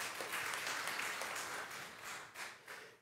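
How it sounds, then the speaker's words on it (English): A church congregation applauding during a Sunday worship service, a dense, steady wash of clapping from many hands that swells and then tapers off slightly, with no talking. "So give yourself another round of applause."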